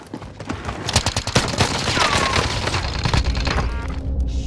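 Video game gunfire in Warzone: dense bursts of rapid shots and thumps crackle close and loud, with an automatic weapon rattling through the middle and a brief lull near the end.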